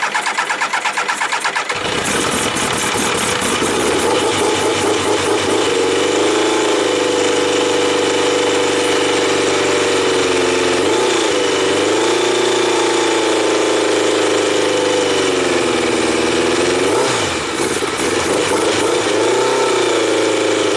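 A 1999 Triumph Trophy 1200 motorcycle, revived after sitting for about two years, cranks and catches, then settles into a loud, close, steady idle on choke with brief revs rising and falling.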